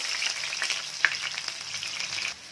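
Sliced onions fry in hot oil for a chicken dum biryani, a continuous close sizzle with a few stirring scrapes, then the sizzle drops off abruptly near the end.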